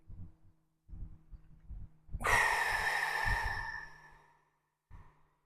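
A single long, breathy exhale through the mouth, close and fairly loud, preceded by a few soft low thumps and quiet breathing.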